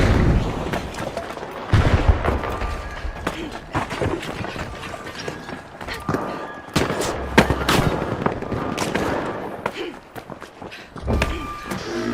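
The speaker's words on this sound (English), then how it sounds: "Throwing a frag!" Frag grenade blast in THE FINALS amid a busy firefight: repeated loud booms and sharp gunfire cracks throughout, dense and close, with scattered game sound effects layered over continuous battle noise.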